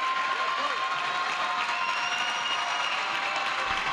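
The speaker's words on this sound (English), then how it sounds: "the crowd is into it" A basketball championship crowd in a gym roars with sustained cheering and applause, a dense, steady wall of voices and clapping that holds at full strength throughout.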